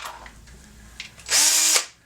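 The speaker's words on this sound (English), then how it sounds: "And you can go through really fast with this little drill." A small handheld drill whirs briefly at close range as it removes the crimp burr from the primer pocket of a brass cartridge case, a loud half-second burst after quieter handling noises.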